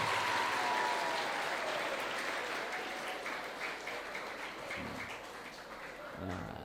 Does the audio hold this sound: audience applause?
yes